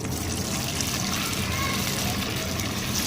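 Potato snacks frying in hot oil, giving a steady, dense sizzle and bubbling hiss that stays loud and even throughout, with a faint voice in the background.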